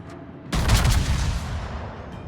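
A single heavy battleship salvo booms in a naval combat video game, a sudden loud blast followed by a long rumbling decay, after a brief quiet lead-in.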